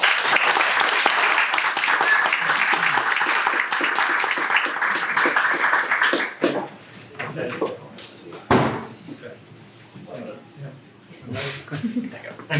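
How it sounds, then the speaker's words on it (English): An audience at a writers' reading event applauds loudly and steadily for about six seconds, then the clapping cuts off and someone speaks over a thump and quieter room noise. "Perhaps we could have a nice round of applause for a man that does a lot for writers, Mr. Chris Fielden."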